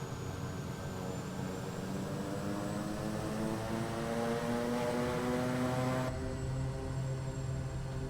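Daher Kodiak 100 turboprop engine and propeller running steadily, a loud sustained drone with strong tonal harmonics that slowly rise in pitch, no voices present.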